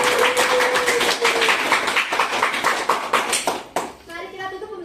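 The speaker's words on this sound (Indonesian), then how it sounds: "Tepuk tangan buat diri kalian sendiri." A high-school maths class in a microteaching lesson claps together in a brief burst of applause, mixed with overlapping voices and a teacher speaking.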